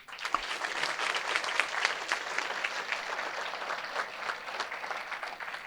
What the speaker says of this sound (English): can we have a loud applause for all of you?